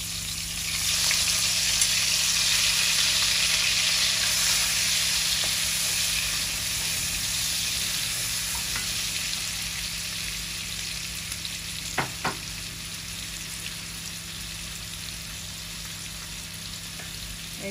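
Onions hitting hot oil in a Bangla home kitchen, a loud, dense sizzle that bursts up at the start and then settles into a steady hiss, with a couple of brief clinks near the end and no talking.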